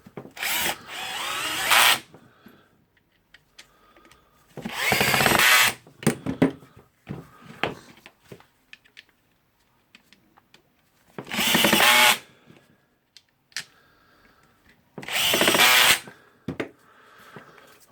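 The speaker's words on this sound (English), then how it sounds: "Of course, I will screw the screws in." A power drill drives screws into the housing of a Makita HR2470 rotary hammer during reassembly, running in four loud, close bursts of a couple of seconds each, separated by quieter handling clatter.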